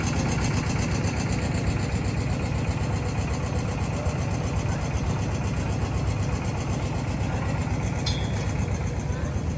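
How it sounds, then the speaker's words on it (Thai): A water pump engine runs steadily beside floodwater at an outdoor stage setup, a continuous mid-pitched mechanical drone with a chugging pulse, loud and close throughout, with faint voices in the background. "ใส่เครื่องสูบน้ำสูบ"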